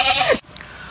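One goat on a farm with about twenty goats lets out a loud, close bleat that quavers and falls in pitch, then cuts off into quiet background.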